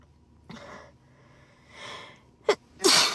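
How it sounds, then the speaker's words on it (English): A woman sneezes in a fit, a soft breathy first sneeze, a gasping inhale, then two sharp close bursts in quick succession, the last loud and explosive, alone with no talk. "I usually sneeze like 3 times"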